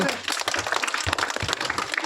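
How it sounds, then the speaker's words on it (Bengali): Dense, loud clapping from a group of people at a football dribbling game, with voices mixed in under the applause. "সবাই হাততালি জোরে"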